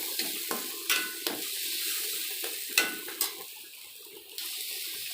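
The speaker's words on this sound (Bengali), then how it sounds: "দেখুন, আমি মশলাটাকে ফ্রাই করছি তেলের ভিতরে ফেলে।" Chili, onion and garlic paste frying in hot oil, a soft continuous sizzle punctuated by sharp spoon scrapes and taps against the pan at irregular intervals, with no voices.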